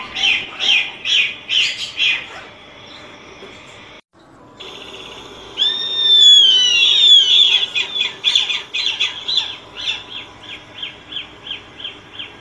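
Chimango caracaras, birds of prey living in urban areas, give loud repeated screeching calls in rhythmic bursts, with one long rising-and-falling squeal in the middle, close and clear.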